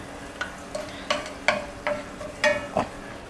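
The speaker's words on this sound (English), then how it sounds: "So we are going to be sauteing the onions, adding pepper, salt, and garlic." Onions sauté in a pan with pepper, salt and garlic: a faint, soft sizzle sits under a series of sharp, close scraping and tapping stirring strokes at an uneven rhythm.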